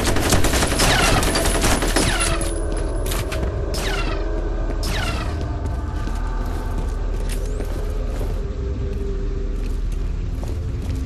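Rapid gunfire from the multiplayer shooter game F.E.A.R. Combat, with dense automatic bursts and sharp individual shots crackling over a steady rumbling background, loud and nearly continuous.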